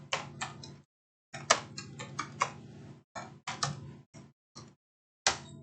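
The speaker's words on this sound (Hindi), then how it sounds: "कुछ भी टाइप करेंगे तो लिखा जाएगा" Typing on a computer keyboard while entering data into an Excel spreadsheet: short bursts of crisp key clicks close by, broken by brief silent pauses, with a faint hum behind them.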